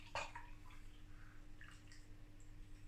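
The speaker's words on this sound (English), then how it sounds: "I had to pour the rest in to get it to actually lace." Non-alcoholic craft beer poured into a glass, a short splashing gush at the start followed by quiet trickling and fizz, close and soft against a low steady hum.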